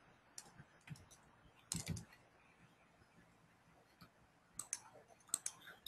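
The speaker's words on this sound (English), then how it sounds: "So now I'm clicking the F2 button from my keyboard" Computer keyboard keys are pressed in sparse, quiet clicks during software work, with a quick cluster of taps early on and a few sharper presses near the end.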